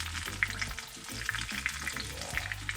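Saltfish fritters frying in a pan as they are turned, a busy crackling sizzle with small scraping and flipping noises close up and no talk.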